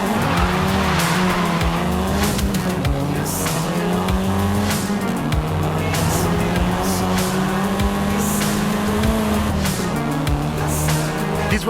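Volkswagen Golf R, seventh generation, in the racing game Forza Horizon 5: a steady, loud engine drone with shifting revs runs throughout, while sustained tyre squeal and skidding sit on top of it with no talk.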